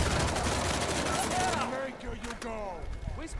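Video game gunfire bursts rapidly for about a second and a half, then thins into scattered shots under a talking voice, ringing tones trailing between them.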